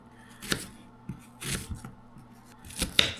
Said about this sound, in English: I'm going to cut this onion up